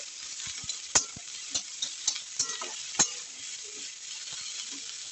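Vegetables for a vegetable soup are stirred as they fry in a pan, a steady soft sizzle broken by several sharp scraping knocks of the spoon against the pan.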